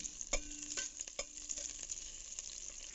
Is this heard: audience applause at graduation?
no